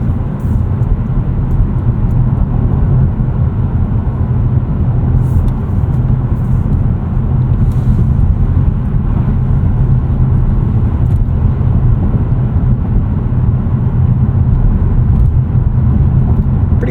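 Engine of a 2024 Mazda3 2.5 S Premium manual, front-wheel drive, heard from the cabin as a steady, loud low rumble that holds near the soft rev limiter with little change in pitch.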